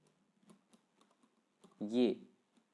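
Someone types a login ID and password on a computer keyboard, producing scattered light keystroke clicks with a short burst of voice partway through.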